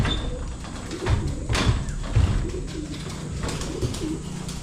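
Low, soft pigeon coos repeat in short rounded bursts over a steady outdoor hiss, several birds cooing close by.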